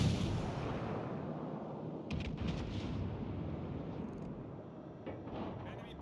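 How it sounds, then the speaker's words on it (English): A warship in WoWs Legends fires a full broadside, a heavy booming roar at the start that rolls into rumbling, with a few sharper blasts echoing through the middle and end. "He fired all of his guns."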